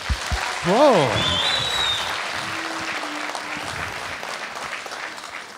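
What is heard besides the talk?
audience applause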